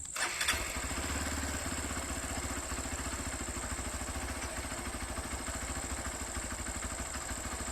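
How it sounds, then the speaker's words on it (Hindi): A 2023 Hero Xpulse 200 4V motorcycle starts with a short crank and catch, then settles into a steady, even idle thrum close by. "जैसे ही आप इग्निशन को ऑन करते हैं और बाइक को स्टार्ट करेंगे"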